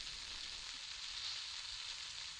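Steak sizzling over an open fire, a steady dense frying hiss that holds even and unbroken throughout, close and fairly quiet, with no voices.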